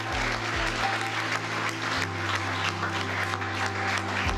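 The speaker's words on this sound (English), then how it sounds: "Give them a round of applause" Wedding guests at Tyn Dwr Hall in Llangollen clap warmly and steadily for the newlyweds over a sustained low musical drone. The clapping stays even and fairly close throughout.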